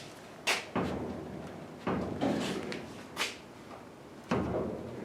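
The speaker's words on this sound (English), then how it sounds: "So when I push the door to try to get it to close," The door of a 1969 Ford Mustang Mach 1, being test fitted, is pushed shut repeatedly and bounces off a corner, giving several sharp metallic thumps spaced a second or two apart in a quiet garage.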